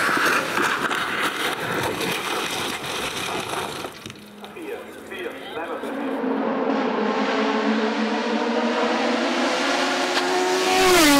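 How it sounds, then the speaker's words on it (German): Six-cylinder boxer-engined race car at a hillclimb race, engine roaring loudly as it passes and accelerates, with a rising pitch through the gears near the end. "jetzt werden wir Boxensound hören"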